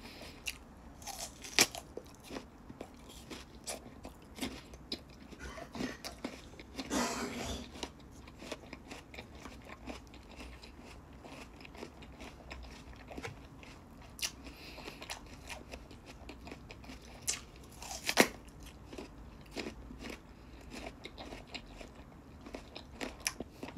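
Crunchy persimmon bitten and chewed close to the mic, a steady stream of crisp crackly bites and wet munching over about twenty seconds, quiet overall with a few louder snaps.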